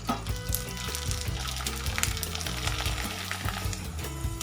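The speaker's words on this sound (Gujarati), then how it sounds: "તેલ આવી ગયું છે તો આપણે પાપડને તળીશું" Steady sizzling of maida (flour) papad frying in hot oil, with a low background hum and occasional clinks throughout, no voices.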